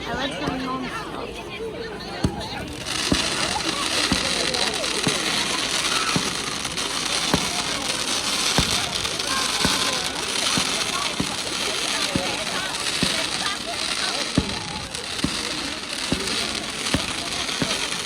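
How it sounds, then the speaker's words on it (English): Bonfire night fireworks crackle and pop in rapid, continuous bursts with sharp repeated bangs over a dense sizzling wash, fairly close, while people talk underneath. "These fireworks in the green, it looks like a meteor."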